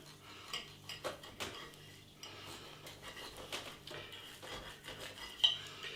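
Cutlery scraping and clinking against a plate as a knife cuts a cooked Iceland Big Daddy sirloin steak in half, with irregular close taps and scrapes and soft handling noise, no talking.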